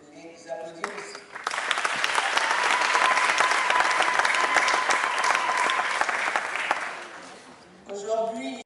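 Sustained applause fills a parliament session of the Parlement Rose in the DRC, rising sharply after a brief pause and holding steady and loud for about five seconds before fading into a few seconds of talk.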